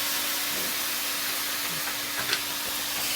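Apple cider vinegar hits a hot pan while deglazing for chicken piccata, giving a steady, close broadband sizzle and hiss with a brief sharper flare near the end.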